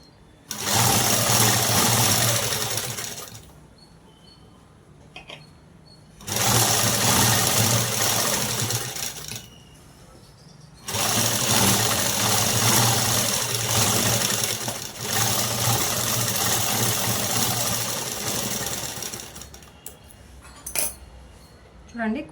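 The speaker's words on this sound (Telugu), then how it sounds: "ఇప్పుడు అనేది మనము స్ట్రైట్ కుట్టు అనేది వేసేసుకున్నామండి" Sewing machine running a straight stitch along a dress sewn from a saree, three long steady whirring bursts separated by short pauses with small clicks, close and loud, no voices.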